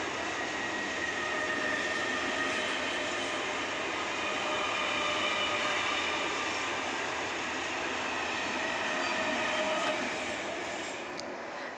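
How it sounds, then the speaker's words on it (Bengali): A train runs along a railway line right beside a home, giving a steady rumbling roar with faint wheel squeal that swells and eases over about twelve seconds, with no talking. "এই যে ট্রেন যাচ্ছে দেখো, আমাদের পুরো পাশেই ট্রেন লাইন।"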